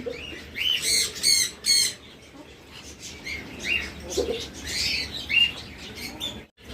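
Caged doves, lovebirds, parrots, mynas and cockatiels in a bird shop squawk and chirp in shrill bursts over a busy background hum, overlapping calls coming and going close by.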